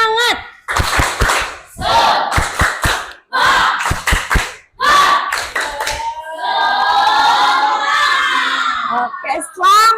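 A school class performs a rhythmic spirit clap chant, sharp unison claps in quick patterned bursts alternating with shouted group syllables, then a longer stretch of chanted voices near and loud.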